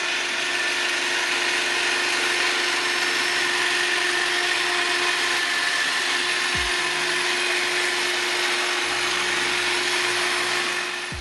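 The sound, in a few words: Dewalt 20V Max cordless hedge trimmer trimming hedges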